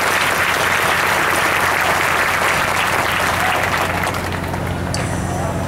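A church congregation at a Sunday evening Mass claps together in loud, sustained applause that fades slightly toward the end, with faint murmuring voices underneath.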